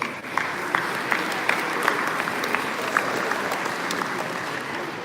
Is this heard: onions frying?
no